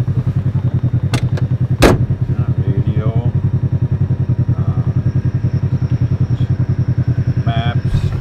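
A 2021 Polaris RZR XP 1000 side-by-side engine drones close and loud with a rapid pulsing beat, broken by a couple of sharp cracks and faint voices.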